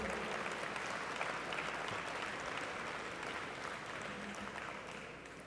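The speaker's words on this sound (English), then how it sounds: "Please give them a round of applause." A conference audience applauds members of the Canadian Armed Forces, a steady, fairly faint wash of many hands clapping that holds evenly and tapers slightly toward the end.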